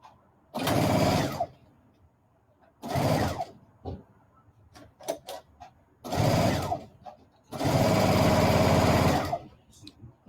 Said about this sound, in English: Right sides together and ready to sew. We are sewing.